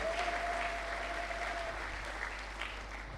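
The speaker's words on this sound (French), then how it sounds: "On peut acclamer Jonas." A church congregation applauds during a sermon on prayer, sustained even clapping at moderate distance that slowly fades toward the end.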